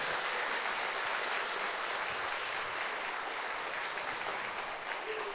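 A church congregation gives warm, sustained applause for a singing duet, a broad, steady wash of many hands clapping at an even volume from start to finish.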